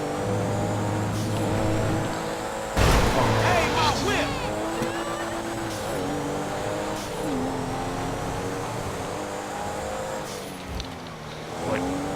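A Porsche 911 Turbo S with a 540-horsepower engine drives in GTA 5, its engine note rising and falling through revs and gear changes, up close, with someone talking over it.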